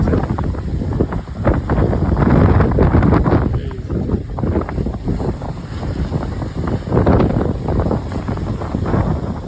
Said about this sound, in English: 50-mile-an-hour winds